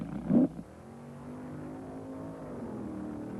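Drag racing cars, a Corvette lined up against a trash truck at Great Lakes Dragway in 1971, with a brief loud thump then a steady, distant engine drone running behind.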